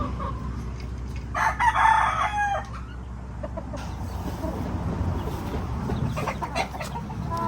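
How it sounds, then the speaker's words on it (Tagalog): A white Kelso gamefowl rooster on a farm crows once, a loud, close call rising over a low background murmur, followed by scattered clucks and farmyard noise. "Ito yung white Kelso namin."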